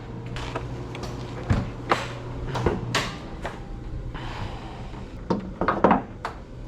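Hood being popped open on a Nissan Skyline R32, a series of clunks and latch clicks with scattered knocks, some quick clusters of metallic taps near the end.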